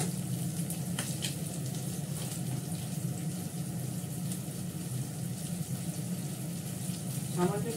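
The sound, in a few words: onions frying in a pan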